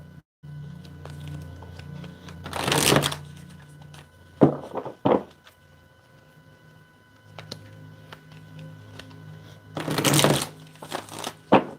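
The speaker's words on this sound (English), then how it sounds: "Three shuffles." A deck of cards is riffled in two brisk bursts, with a few softer taps and shuffles between them in a quiet room.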